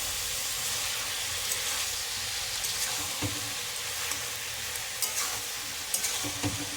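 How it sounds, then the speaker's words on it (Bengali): Ridge gourd and prawns fry in hot oil while being stirred, giving a steady soft sizzle broken by occasional scraping and clinking strokes of the spoon against the pan. "ভালোভাবে তেলে নাড়িয়ে চাড়িয়ে কষে নিতে হবে।"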